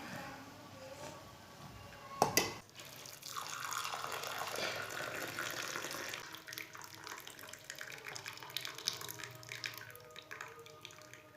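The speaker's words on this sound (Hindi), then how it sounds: "इसे कप में डाल लेते हैं।" Jaggery tea poured from a pot into a cup, a continuous close liquid stream lasting several seconds after a brief knock, with no speech.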